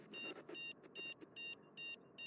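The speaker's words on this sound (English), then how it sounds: "if I go over 75, it makes that annoying beeping sound" A repeating electronic overspeed warning beep in a train simulator game pulses about twice a second, even and insistent, over a faint background hum.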